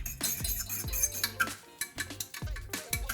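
Close, rhythmic clinking of a utensil stirring spices around a bowl, with repeated scraping strokes and bright taps against the sides, alone with no talking.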